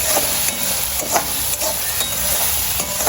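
Shev gets stir-fried in a pan for Nashik-style milk shev bhaji, a continuous loud sizzle with regular scraping strokes of the spatula about every half second, close up and with no voices.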